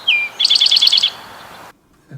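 Eastern Towhee singing close by, a short introductory note followed by a rapid, evenly spaced trill, then quiet.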